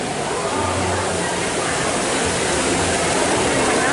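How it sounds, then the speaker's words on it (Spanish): Water splashing from fountains along old alleys in Guatemala's Zona 1, a loud continuous rushing hiss that fills the whole stretch without pause. "donde estaban las fuentes con ese ruido de agua"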